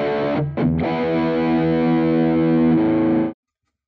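A Squier Stratocaster Contemporary electric guitar plays through distortion and effects: a brief stab and a short break, then one long sustained, heavily distorted chord ringing loud and close for nearly three seconds before cutting off abruptly into silence.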